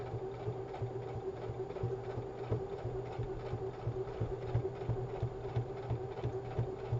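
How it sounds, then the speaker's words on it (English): A sewing machine runs steadily, its needle tapping in a fast, even rhythm with a low motor hum underneath, no voices. "I love the sound of a sewing machine."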